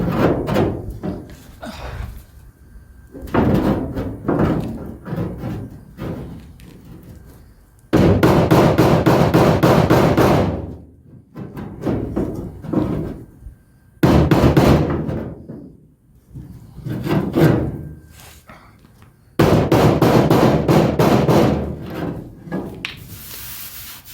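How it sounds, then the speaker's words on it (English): A rubber hammer beats a body panel on a 1974 Dodge D100 pickup truck in several bursts of rapid, loud, close knocks separated by short pauses, with no talking. "I got a rubber hammer"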